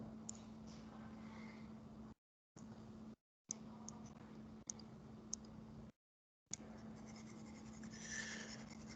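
Marker or chalk being scrubbed off a classroom board with steady rubbing strokes and brief pauses, a soft continuous scratchy friction under a faint steady hum, with no talking.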